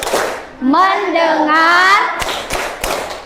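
A class doing the focus clap: a single voice chants first, then a few sharp, loud group claps ring out in a quick rhythm.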